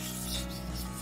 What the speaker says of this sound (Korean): 지금 고온 사포로 연마 중입니다